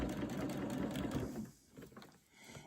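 Sewing machine stitching fabric for a bucket hat with the foot pedal pressed all the way down, a loud, fast, steady mechanical whir for over a second that then stops, leaving faint handling sounds.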